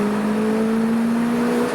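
Turbocharged MR2 Spyder pulling hard in third gear, a steady droning engine tone with a slowly rising pitch, loud and close from inside the car, no voices.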